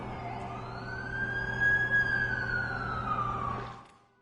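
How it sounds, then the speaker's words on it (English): An ambulance siren wails steadily, a rising and falling tone that swells louder as it nears and then cuts off abruptly near the end, with a low engine rumble underneath and no voices. "That's the ambulance I called."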